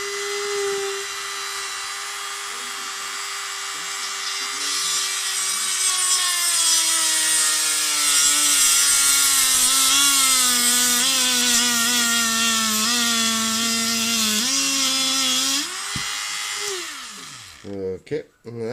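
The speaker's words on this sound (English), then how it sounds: "I'm using friction heat to push the rivet through the plastic of the base" A rivet is pressed through a plastic base using friction heat: a loud, continuous rotary whine with a tone that slowly drops as it loads up, then winds down near the end.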